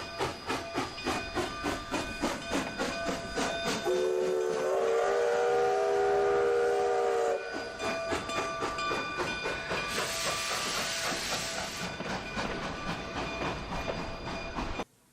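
A steam locomotive heads a train with a second engine coupled behind, chuffing in a steady rhythm with hissing steam and rail clatter, interrupted by a long, loud whistle blast lasting a few seconds.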